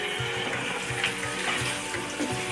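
Mutton curry sautéing in spices and oil in a covered pot, a close, steady bubbling sizzle with soft rhythmic gurgles throughout.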